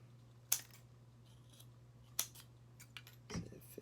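Scissors snipping through a styrofoam cup, giving a few crisp, close cuts spaced out over a quiet background with a low steady hum.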